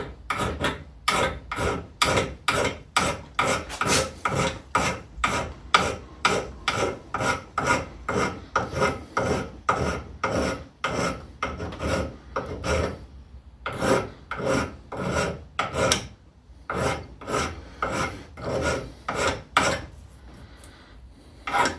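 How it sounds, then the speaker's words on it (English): Hand file rasping along the spine of a carving knife blade in steady back-and-forth strokes, close and fairly loud, with a few brief pauses before the strokes resume. "file the profile on it a little bit with a file and some sandpaper"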